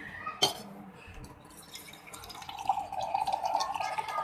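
In a home kitchen, a glass gives a sharp clink, then water pours steadily into it for drinking, the filling sound growing fuller and louder toward the end, close by.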